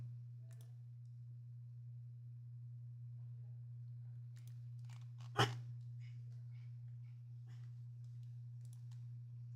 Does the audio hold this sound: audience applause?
no